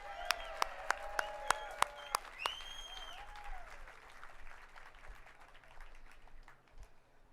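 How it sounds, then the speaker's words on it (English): Outdoor audience applause at a Hollywood Walk of Fame ceremony, faint and distant, a sustained patter of clapping from a crowd with a few sharp clicks and whistles early on. "Let's do a big round of applause for that."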